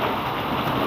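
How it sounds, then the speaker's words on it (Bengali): Large, potato-sized hailstones pelting down on a road and rooftops during a storm make a dense, continuous close-up clatter like heavy rain, with no gaps and no voices. "কত শিল পড়ছে দেখো, এই বড় বড় পাথরের মতো,"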